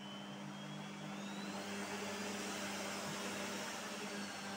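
A vacuum cleaner motor runs steadily at close range, a loud continuous whine and rushing airflow with no voices.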